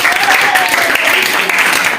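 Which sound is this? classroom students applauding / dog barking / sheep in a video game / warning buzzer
classroom students applauding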